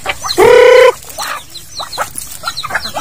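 A hen on a farm with her chicks gives one loud, close, drawn-out squawk, followed by softer scattered clucks and chick peeps.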